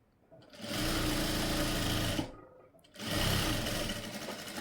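A sewing machine stitches darts on the front piece of a blouse in two loud, close runs, the first lasting under two seconds and the second starting after a short pause.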